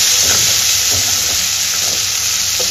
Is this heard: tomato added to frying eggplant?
yes